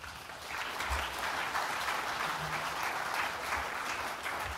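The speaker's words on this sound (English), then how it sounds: "He deserves another round of applause." A large audience at an award ceremony applauds in a dense, steady wash of clapping that holds loud and even for several seconds, with no speech.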